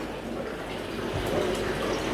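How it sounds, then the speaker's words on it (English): Water from a fish tank pours steadily into a tub, a soft continuous rushing splash held at an even, fairly quiet level throughout. "so we're just filling the tub with water from the tank."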